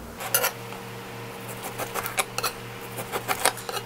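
A knife slicing pork into strips for sweet and sour pork, producing soft, close, irregular cutting taps on a board over a low background hum.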